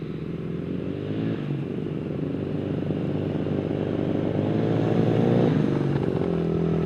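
Engine of motorcycles approaching on a muddy rural property, with a steady rumble that grows louder and closer over several seconds, no speech.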